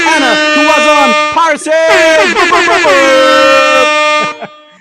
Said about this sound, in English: I'm gonna throw up them air horns like you know how we do